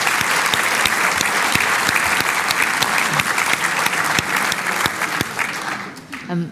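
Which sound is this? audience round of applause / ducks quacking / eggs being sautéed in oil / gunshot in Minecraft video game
audience round of applause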